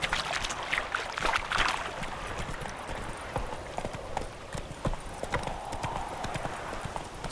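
Roach the horse's hoofbeats in The Witcher 3: Wild Hunt, a steady, close clip-clop of hooves that continues evenly throughout, with faint ambient outdoor noise beneath.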